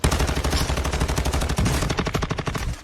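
Rapid automatic gunfire in Call of Duty: Modern Warfare 2, dense overlapping bursts of shots hammering loudly and continuously throughout, with no voices.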